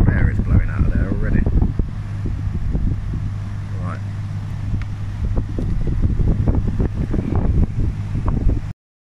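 Cold air blows from a Remora i9 air source heat pump in a steady, loud gust of fan rush over a low constant hum, close to the listener.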